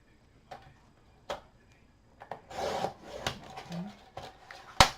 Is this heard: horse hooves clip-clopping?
no